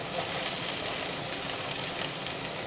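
Onions fry in hot oil in a pan for a Senegalese thieboudienne, giving a steady, close, dense sizzle with one small pop midway and no voices.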